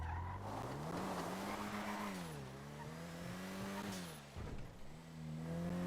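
A car driven in the video game GTA 5 RP, with a steady engine drone that rises and falls as it revs and shifts, plus a brief rough burst near the end.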